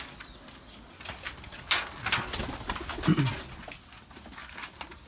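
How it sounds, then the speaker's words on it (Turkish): Pigeons in a loft coo softly in low, rolling bursts amid fluttering, scuffling and rustling close by. "Benim uzun dönem bir güvercinim var."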